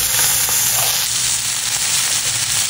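Pomfret fish frying in a pan, a loud, dense, steady sizzle and crackle close up throughout, with no talking.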